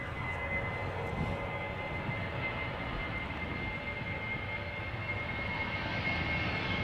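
A British Airways jet airliner departing Amsterdam Schiphol Airport gives off a steady, distant engine roar with a faint whine riding on top, continuous and unchanging throughout.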